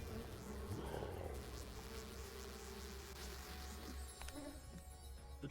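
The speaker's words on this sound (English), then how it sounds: "Summon some bees." Summoned bees in the Popup Dungeon video game give a steady insect buzz over a dense game soundscape, continuous and fairly loud throughout, with a few faint electronic tones near the end.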